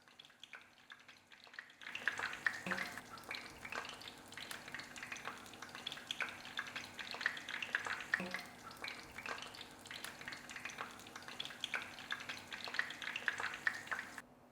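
Meatless burger patties sizzling in a frying pan, a soft crackle and spatter that starts after a moment of quiet and then holds steady and fairly faint, with light popping throughout.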